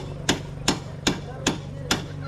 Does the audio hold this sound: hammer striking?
yes